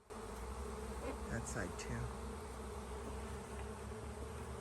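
Honey bees buzzing steadily around an overwintering hive, a dense continuous drone close by, with a brief spoken remark over it.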